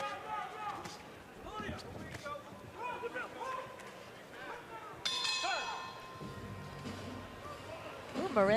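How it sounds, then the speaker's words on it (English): A boxing ring bell clangs once partway through a Marin vs Escalante match, ringing on with a sustained metallic tone under commentators' voices and arena noise. "Marin likes to really throw some blows right when the bell rings and keep on going"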